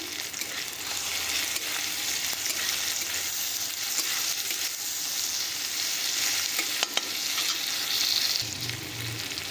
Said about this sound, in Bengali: আর কালো জিরেটাকেও অল্প ভাজা করে নিচ্ছি